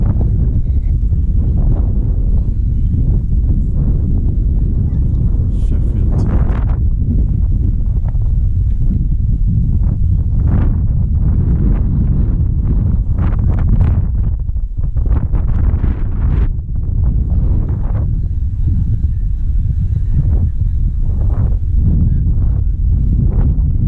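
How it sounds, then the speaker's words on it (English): Strong wind buffets the microphone beside a town-centre water fountain in Sheffield, South Yorkshire, a loud continuous roar with gusty surges and no clear voices. "Windy in Sheffield today."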